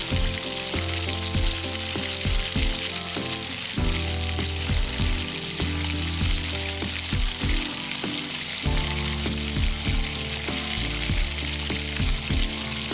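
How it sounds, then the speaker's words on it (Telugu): Tempering spices, green chili and garlic frying in oil in a kadai give a steady, close sizzle, broken by repeated clatters of stirring throughout. "అందులో కొంచెం ఆయిల్ వేసుకొని దాంట్లో పోపు దినుసులు అవి కాస్త ఫ్రై అయ్యాక గ్రీన్ చిల్లీ, గార్లిక్,"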